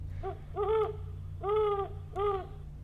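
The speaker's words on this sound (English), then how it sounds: "that's a loud ass owl" Owl hooting in the Doki Doki Our Castle Walls video game, three loud, close hoots in a row, each a rounded tonal call with a short lead-in note before the first, over a low background hum.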